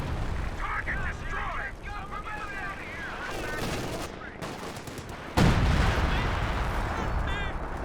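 Creeping artillery barrage in Company of Heroes 2, with a steady roll of booming impacts and crackling blasts and a sharp, louder explosion late on, under continuous commentary.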